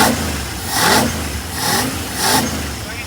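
A 1958 Ford F100 engine idles close by with a flooding carburetor, its steady low rumble swelling into three rhythmic surges roughly every seven-tenths of a second, with no talk over it.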